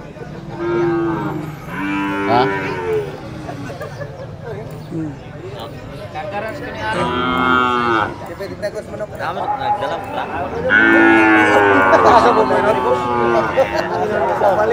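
Cattle moo repeatedly at a livestock market where buyers trade cattle, with several long, drawn-out calls near and farther off, under steady talk and crowd chatter.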